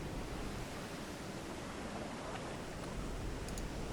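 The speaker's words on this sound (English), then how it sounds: "Oh, we are struggling with the waves." Rough ocean waves against a U-boat in the submarine game Silent Hunter 3, a dense steady wash of surf noise with no breaks, fairly faint and continuous.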